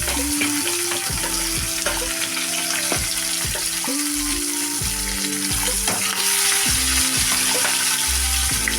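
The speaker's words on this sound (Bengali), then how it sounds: "এখন কড়াইয়ে আমি মাছগুলোকে ছেড়ে দিলাম" Turmeric- and salt-coated fish frying in hot oil in a wok, a continuous loud crackling sizzle close up, with a steady low tonal hum and occasional clunks running underneath.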